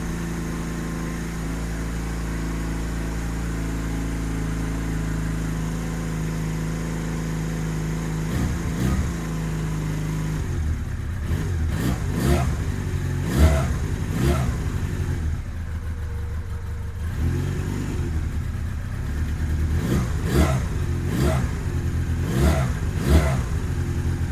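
A 2009 Honda Rebel 250 motorcycle engine runs steadily at close range, a continuous low idle with several blips of revving that rise and fall.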